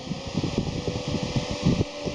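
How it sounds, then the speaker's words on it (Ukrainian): A portable battery-powered fan with a solar panel, model M 606, hums steadily at close range after being switched on, a soft continuous whir with faint fluttering. "Вентилятор ось вмикається, дві швидкості в нього."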